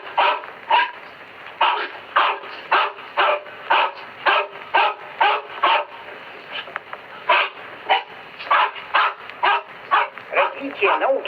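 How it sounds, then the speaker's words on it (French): Soviet space dogs barking in Moscow the day after returning from the Sputnik 5 spaceflight, a steady run of loud, close, rhythmic barks and yips repeating about twice a second throughout. "Fléchette et Écureuil ont aboyé joyeusement, alors qu'à Moscou, les savants les présentaient au lendemain de leur fantastique voyage."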